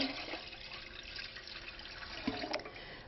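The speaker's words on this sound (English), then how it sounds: "center your empty canner on the heat source and add 2 to 3 inches of water." Water pours steadily into an empty canner set on the heat source, filling it a few inches deep before canning game meat in jars; a continuous close splashing rush, with no voices.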